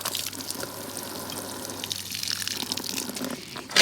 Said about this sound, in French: Donc j'arrose.